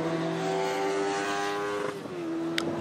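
Race car engines at the Kirkistown circuit hold a loud sustained tone while a car passes close by, the pitch dropping as it goes, with a sharp shift in sound near the end.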